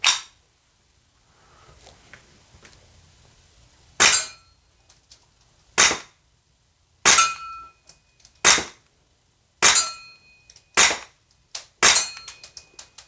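A GHK Glock 17 gen3 airsoft pistol fires about eight sharp, loud snapping shots spaced a second or two apart, each with a brief metallic clink, with no voices between them.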